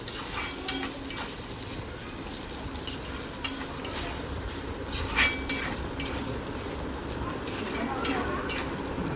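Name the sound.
sautéing ginger, green chili and garlic in a pan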